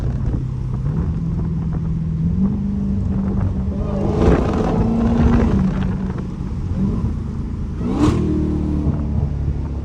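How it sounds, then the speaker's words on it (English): A Dodge Hellcat engine revs and downshifts, with a loud, close rumbling drone whose pitch climbs and drops through several gear changes and throttle blips, including a sharp spike near the end. "How them downshift sound?"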